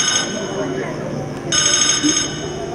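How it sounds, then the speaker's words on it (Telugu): A landline telephone on a stage show rings with a steady electronic trill that pauses briefly and then resumes, heard over a murmur of voices and hall noise. "ఫోన్ అరుస్తా ఉంది."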